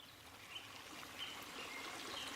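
A babbling stream winds through a summer forest, its steady soft trickle filling the scene with faint chirps of birds or insects above, quiet and continuous without any voices.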